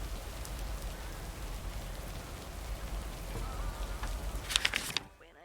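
Steady rain falling in the Lake postal simulator video game set in an 80's small town, a dense continuous patter with a few brighter drips near the end before it cuts out.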